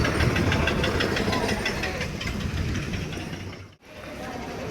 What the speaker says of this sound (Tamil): இன்ஜின் சவுண்டை பாருங்கள்.